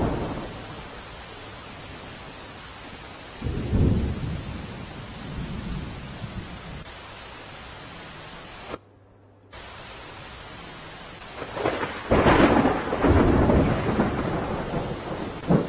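Heavy monsoon rain pours steadily across a flooded village by the Meshwo river in Gujarat, broken by loud rolling thunder claps, one near the start and a long heavy rumble toward the end, with a brief dropout midway.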